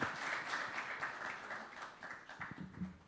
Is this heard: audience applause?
yes